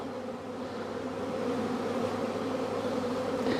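Honeybees hum in a dense, continuous drone around a hive while a swarm is being managed outdoors, the buzzing close and steady and growing slightly louder throughout, with no voices.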